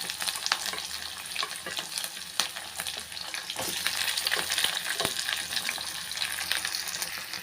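Onions and garlic sautéing in hot oil in a kadai, a steady close sizzle with scattered sharp crackles and pops and a few spoon scrapes, no voices.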